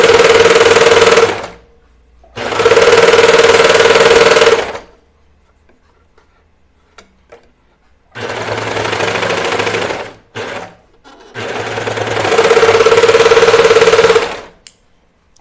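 A sewing machine stitching a Linden sweatshirt, running in four loud close bursts of rapid, steady whirring separated by short silent pauses.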